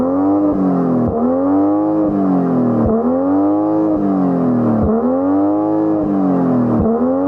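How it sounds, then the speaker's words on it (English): A BMW M240i's engine revs steadily in repeated rising and falling surges, a throaty six-cylinder drone heard up close with no talking. "you don't get to fully enjoy the sound that this 6-cylinder engine can make. So go on, rev it up"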